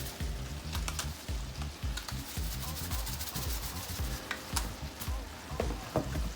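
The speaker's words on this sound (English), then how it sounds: "Give everything a quick mix." Seasoned cabbage is stirred in a frying pan, with a continuous scraping, rubbing rustle over a steady sizzle and scattered light clicks of the utensil, close and fairly loud.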